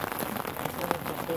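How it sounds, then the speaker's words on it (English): Steady rain patters on surfaces outdoors at the pyramid of Tepoztlán on a cloudy day, a close, even hiss of drops throughout. "But it's rainy, it's cloudy, you can't see really much."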